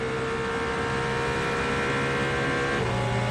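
Peugeot race car at the Le Mans 24 Hours, its engine droning steadily at high speed throughout, loud and continuous with a slight shift in tone near the end.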